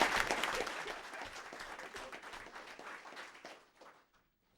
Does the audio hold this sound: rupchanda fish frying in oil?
no